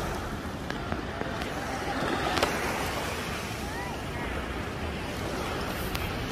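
Waves wash steadily at Bolinao Beach in Pangasinan, a continuous broadband surf roar mixed with gusty wind buffeting the microphone throughout.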